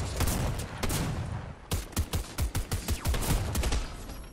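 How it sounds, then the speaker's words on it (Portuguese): A burst of rapid gunfire in Fortnite, then a string of distinct shots in an uneven rhythm, loud and close with a noisy backdrop. "Eu dei 2 tiros queima-roupa nele, homem."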